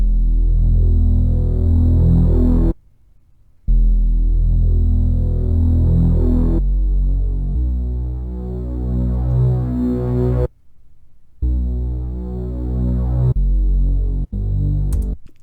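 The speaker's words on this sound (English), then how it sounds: "The last sound that I added was this bass, Moog Growler from Omnisphere." A Moog Growler bass patch from Omnisphere plays a dark, buzzy, sustained low line that follows root notes, loud and up front, with a few abrupt silent gaps between phrases.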